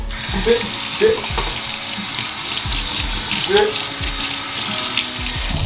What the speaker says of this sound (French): T'as le fouet? Je peux te... On va le rincer.